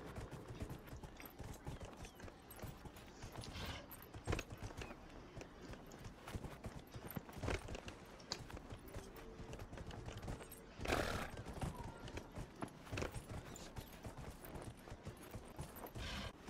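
Horse hooves thudding in the fantasy video game Dragon Age Inquisition, a faint, steady run of repeated hoof beats with occasional louder clunks of gear.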